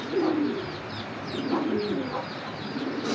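A female Dobas Giribaz pigeon coos softly in repeated low, rolling phrases, close by, with a few faint chirps in the background.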